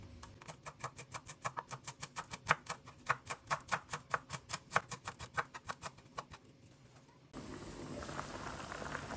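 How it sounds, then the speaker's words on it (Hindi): Close, brisk knife chopping of fresh coriander on a board, a steady run of sharp, regular taps for about seven seconds, then a short pause and a soft broadband background hiss with no talk. "और थोड़ा सा मैंने धनिया लिया, तो इसकी भी हम कटिंग कर लेंगे"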